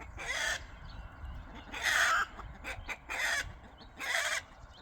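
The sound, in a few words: rooster and chickens clucking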